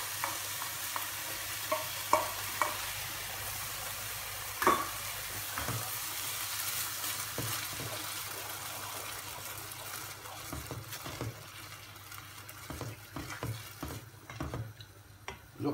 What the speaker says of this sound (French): je mets ma purée de tomate